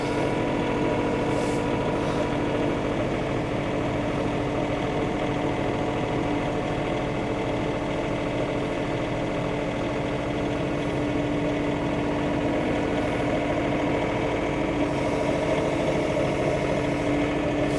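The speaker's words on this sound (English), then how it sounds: "This tractor hasn't let me down yet as far as that goes" A farm tractor's engine runs steadily while feeding cattle in deep, soft snow, a loud continuous idling drone with a constant low rumble throughout and no voices.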